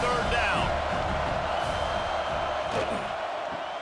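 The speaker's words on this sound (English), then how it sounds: "Decibels rising as the crowd gets behind this defense on 3rd down" An American football stadium crowd roars for the defense on third down, a loud, steady wash of cheering and whooping that holds for several seconds with no clear breaks.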